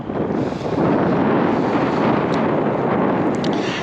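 Strong wind buffets the microphone on a boat while fishing for striper near Rio Vista and Sherman Island, a loud continuous roar with no pauses.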